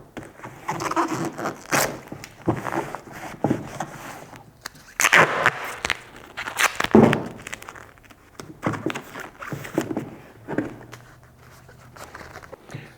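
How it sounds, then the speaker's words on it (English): Duct tape torn off the roll in several quick rips and scrapes to seal the back portion of insulation on a ductwork fitting, a close, irregular run of bursts with handling noise between them. "Last part is we're just going to tape this back portion."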